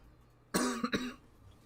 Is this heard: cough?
yes